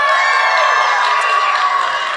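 A theatre audience claps and cheers at a live show, a dense, loud, sustained wash of applause with crowd voices mixed in, close and steady throughout.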